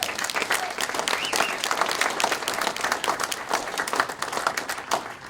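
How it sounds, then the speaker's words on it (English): A crowd claps steadily at a sports hall of fame induction ceremony, with a full, continuous wash of applause and no talking. "how about a round of applause for the class of 2022?"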